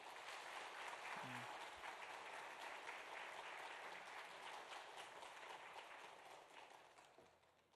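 A church congregation applauds a guest speaker coming to the pulpit at a Sunday family praise service. The clapping is continuous and dense for several seconds, then gradually fades.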